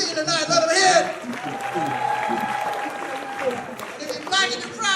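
Comedy-club crowd keeps applauding, a steady mid-level patter of clapping with crowd murmur, rising a little at the start and end.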